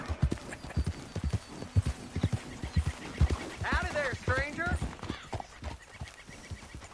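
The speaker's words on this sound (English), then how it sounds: "that's a nice-looking horse you have there" Horse hooves clip-clop steadily in Red Dead Redemption 2, with a short whinny rising partway through, while someone speaks over the hoofbeats close by.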